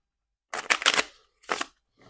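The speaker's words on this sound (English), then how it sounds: "Okay, one more shuffle." A deck of playing cards is shuffled up close during a card game, with two quick, crisp riffling bursts and a faint trailing flutter and no talking.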